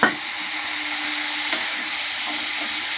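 Water splashes into a pan of frying spice masala for a vegetable navratan korma, setting off an immediate, loud, steady sizzle that keeps hissing without any talk.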